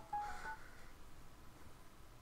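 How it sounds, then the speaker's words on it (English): A phone alarm goes off in a room, a short run of clear electronic tones in the first half second, then fading into faint background noise with no talking. "Sorry about that, alarm off my phone."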